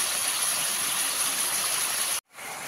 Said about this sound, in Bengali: মাংসটাকে একটু ভেজে নিই পেঁয়াজের সাথে